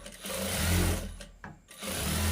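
An electric sewing machine stitches together the saree-fabric pieces for a blouse front. It runs with a close, steady whirr, pauses briefly in the middle, then starts again. No one speaks.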